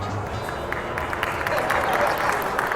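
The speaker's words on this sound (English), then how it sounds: "Round of applause, sir." A convention crowd at Nostalgia Con 2025 applauds the Ed, Edd n Eddy cast with a steady, dense wash of clapping and crowd voices that builds slightly toward the end.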